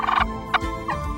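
A wild turkey gobbles outdoors: a loud, rattling gobble, then two shorter answering calls close by, with no talk over them.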